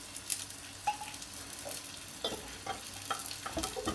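Bread sizzling in a hot frying pan, a steady close crackle with scraping and stirring touches layered on top, no voices.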